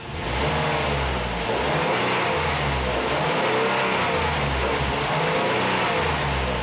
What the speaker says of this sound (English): So now I'm gonna rev the engine.